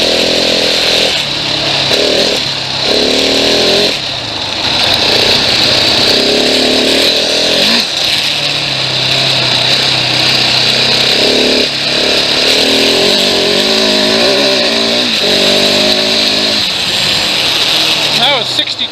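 2017 Husqvarna 701 Enduro motorcycle riding at speed on wooded trails: a loud engine roar that keeps rising and falling as the throttle changes, heavy wind noise throughout, and a voice talking at times underneath.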